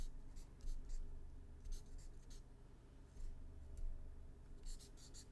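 A pen scratches across a paper character sheet in short, close, quiet strokes, soft ASMR-style scribbling in a few separate bursts over a low background hum.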